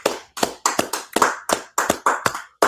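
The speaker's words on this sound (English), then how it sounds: "Clap it up, clap it up." Close, crisp hand claps, around ten separate sharp smacks in a loose, slightly uneven rhythm with brief silences between, no talking over them.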